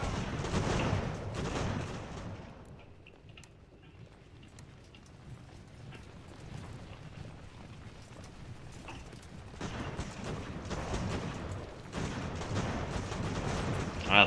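Scattered musket volleys and artillery booms in Ultimate General: American Revolution during the siege of Fort Montgomery, a fairly distant, uneven crackle of shots with a quieter lull midway before the firing swells again.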